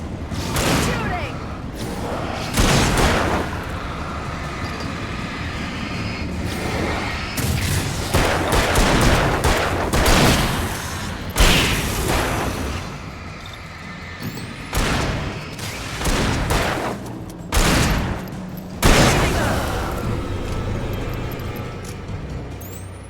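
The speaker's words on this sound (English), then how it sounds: "Shooting!" Gunfire in the Alan Wake video game, with repeated bursts of shots and booms spread across a busy, loud scene, partly under voices.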